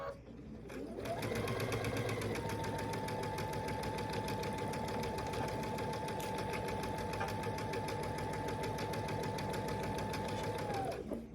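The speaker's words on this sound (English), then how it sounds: "I'll take it to the machine and sew a 1/4 inch to put these 2 units together." A sewing machine runs a quarter-inch seam joining two quilt block units in one steady, continuous, close-up whir lasting about ten seconds.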